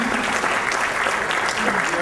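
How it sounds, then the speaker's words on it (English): A YMCA tribute-event audience gives a steady, loud round of applause that fills the room, with some voices mixed in beneath the clapping. "Ladies and gentlemen, how about a big round of applause for Scott Sammis?"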